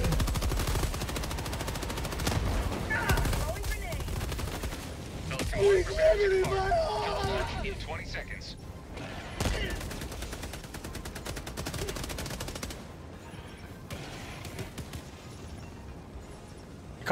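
Light autocannon fire in the Helldivers 2 video game comes as bursts of heavy, rapid shots over a busy battle backdrop, with game voices and a player speaking over the action.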